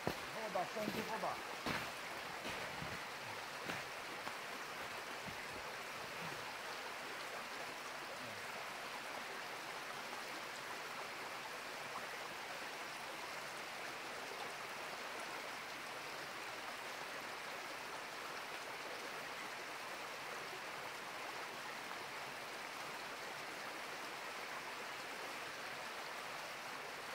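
Water from a small mountain stream flows steadily in a snowy winter forest, a broad continuous rush that carries on alone after a few short knocks at the start.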